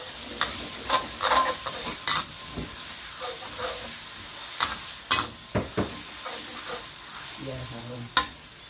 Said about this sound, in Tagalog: Now we're going to fry all the ingredients, the urap ingredients, like that.